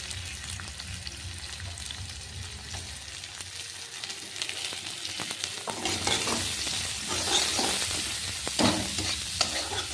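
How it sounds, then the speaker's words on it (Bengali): Chopped onion fries in a pan with minced garlic and ginger, a crackling sizzle with frequent utensil scrapes and taps that grows louder and busier toward the end. "এটা পেঁয়াজটাকেও দিয়ে একটু ভালো করে ভেজে লাল লাল করে ভেজে নেব।"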